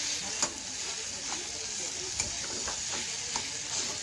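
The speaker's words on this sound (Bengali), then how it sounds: "হলুদ আর নুনটা দিয়ে আমি এখানে চালটাটাকে ভালো করে নাড়িয়ে নিচ্ছি একবার" Elephant apple pieces with turmeric and salt are stirred in hot oil, a soft steady sizzle broken by a few light scrapes and knocks of the spoon against the pan, quiet and close.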